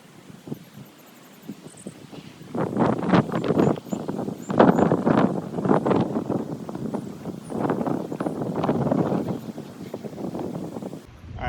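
Gusty wind blowing outdoors during a vinyl gutter installation, buffeting the microphone in rough, uneven bursts that rise and fall for most of the stretch.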